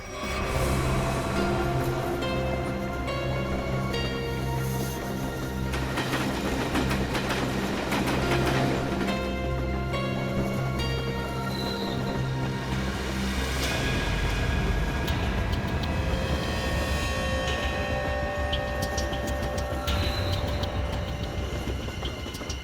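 A moving train carries on steadily for the whole stretch, a dense rumble with clattering and rattling carriage noise and occasional squeals, loud and close as if heard from inside the carriage, with no talk over it.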